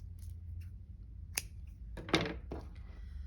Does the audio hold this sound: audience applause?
no